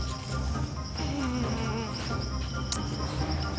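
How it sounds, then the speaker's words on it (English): Constant insect buzzing fills the air, a dense droning hum with shrill high tones layered over it, close and steady throughout. "Go away, bees."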